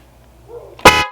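A Haunted Hills Productions Death Horn Halloween prop lets out a sudden loud, brassy horn blast after a moment of quiet rustling, close and harsh, cutting off abruptly.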